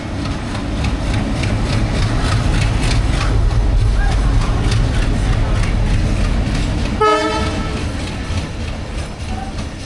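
A train rumbles and clatters on the rails while its engine is shifted to the front for a departure to Dhaka; a short horn blast sounds near the end and faint voices are present.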